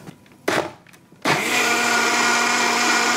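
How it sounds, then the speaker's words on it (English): Blender running on a brown sugar and cinnamon dolce egg mixture for egg bites: after two short bursts it settles into a loud, steady whir that continues to the end, with no talk. "Go to the blender and blend this one up."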